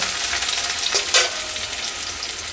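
Sliced onions fry in hot oil for birista for a chicken biryani, a loud, dense, continuous sizzle with a couple of brief stirring swells.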